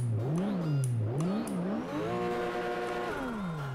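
A Porsche flat-six engine revs repeatedly in a garage, sharp rising and falling blips followed by a longer sustained high rev that drops away, loud and close with no talking.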